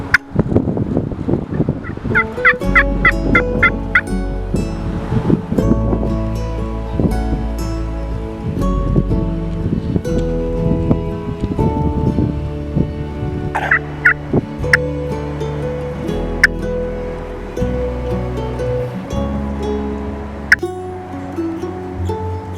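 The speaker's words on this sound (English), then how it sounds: "we saw a big gobbler in the riparian woods below us" Wild turkeys gobble repeatedly in riparian woods in Kansas, rapid rattling calls bursting out again and again, fairly close and loud over a steady outdoor background.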